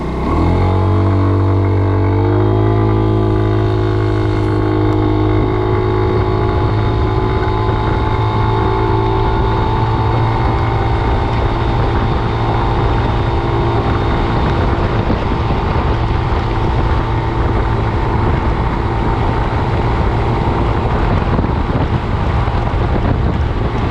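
A Sym Joyride 300 scooter engine drones steadily while being ridden on a test ride. The low hum rises in pitch early on as the scooter speeds up, and heavy wind buffeting on the microphone runs loudly throughout.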